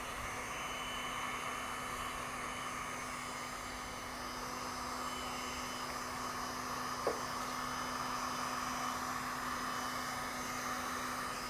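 A heat gun post-heats vinyl wrap on a Tesla Model 3 fender, blowing with a steady, even airy hiss and hum throughout, fairly quiet and close, with one brief faint tap midway.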